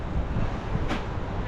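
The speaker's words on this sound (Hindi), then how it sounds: "आज एक तो हवा इतनी तेज़ चल रही है" Strong wind gusting at a cruise point in Dubai, a continuous broadband rush buffeting the microphone with a brief sharper gust near the end.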